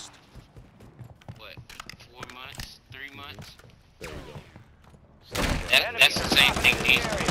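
Gunfire from the Modern Warfare III Warzone video game bursts in loud and dense near the end, a rapid volley of shots following a stretch of quieter talking voices.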